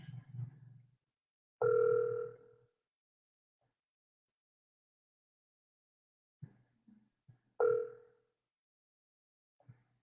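On an outgoing phone call, the ringback tone sounds twice, each a short, clear electronic buzz separated by silence, with faint room noises in between.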